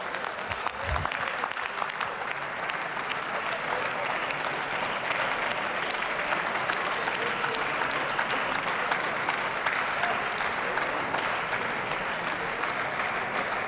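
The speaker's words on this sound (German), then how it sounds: "der lange Applaus bringt auch nichts" Long, steady applause fills the chamber of the German Bundestag during a debate on the solidarity surcharge, many hands clapping evenly at moderate volume without letup.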